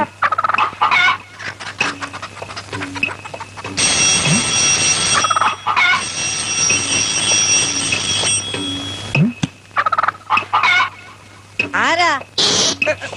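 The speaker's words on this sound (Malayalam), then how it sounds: "ഓ, കോഴിയാണല്ലേ?" Chickens cluck in short repeated bursts, close and loud, while people talk around them and a long noisy stretch of commotion fills the middle.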